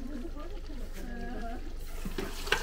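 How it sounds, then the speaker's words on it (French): Floured, spiced food fries in a pan over a flame, giving a steady close sizzle with stirring beneath background voices and kitchen clatter, and a brief sharp clink near the end. "Dans la poêle à frire sur le feu juste là."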